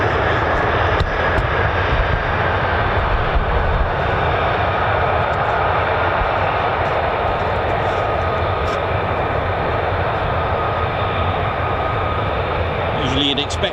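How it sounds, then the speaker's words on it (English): A US Air Force F-15 or F-35 fighter jet taxiing for departure at RAF Lakenheath gives off a steady, loud broadband engine roar with a constant whine, running continuously without a break. "taxiing for departure."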